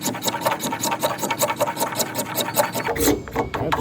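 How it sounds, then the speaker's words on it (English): A Mora Companion stainless knife scrapes along fatwood in quick, regular rasping strokes, about four per second, close and crisp with no talk. "we can't do any scraping without using our fatwood"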